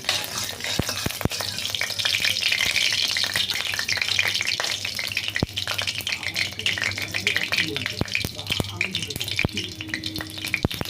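Whole white cumin seeds sizzle steadily in a little hot oil, a dense close-up crackle with scattered sharp pops and occasional stirring scrapes, running continuously with no talk.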